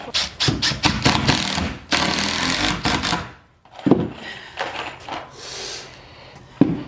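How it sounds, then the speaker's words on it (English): Three-inch deck screws driven into scrap wood with a power drill for a chicken bench, loud close whirring bursts of the motor, the longest about two seconds, followed by shorter grinding pulses. "Alright, I'm just attaching these using 3-inch deck screws."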